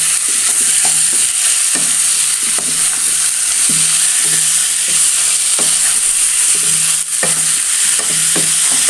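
Marinated chicken in a special masala cooked without added water, stirred in a pan with a loud continuous sizzle and a regular series of scraping strokes from the spoon.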